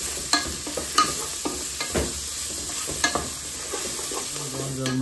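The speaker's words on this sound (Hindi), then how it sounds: "कांदो जालो म्हणटकीर करीपत्ता घालाय, सुके मिरसांगो बरे भाजप." Curry leaves and dried red chillies fry in a pan for a Goan squid chilli fry, giving a steady sizzle with scattered sharp crackles and pops and occasional stirring scrapes, close and without speech.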